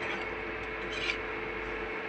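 Spice paste for a new-potato, green pea and paneer curry is stirred and fried in a pan, giving a soft, continuous scraping and rubbing at low volume.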